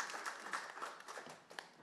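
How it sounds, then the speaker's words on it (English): A short burst of audience applause at a community climate action session, fairly quiet and uneven, with scattered claps fading out toward the end. "Big applause to our young generations."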